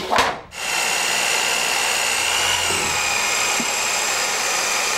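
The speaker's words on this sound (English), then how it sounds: "I have both of these on variable speed drills, so you can control the speed of it" A variable speed drill mixes clay slip in a bucket, starting with a brief surge and then running as a steady, loud, continuous whirring churn with no talking.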